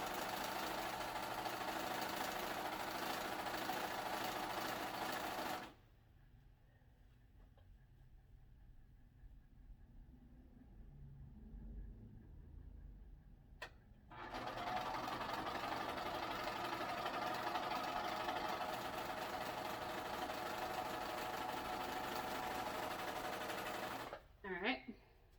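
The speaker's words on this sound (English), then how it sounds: "I'm not going to knot it because I'm going to sew right over it." Sewing machine stitching a skirt seam runs steadily and loudly, pauses for several seconds of quiet handling sounds, then runs again in a long continuous burst with a brief stop near the end.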